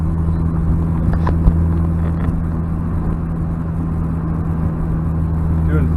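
A 1992 Honda Prelude cruising in fifth gear, its steady low engine drone and road rumble filling the cabin continuously at an even, moderate level with no talking.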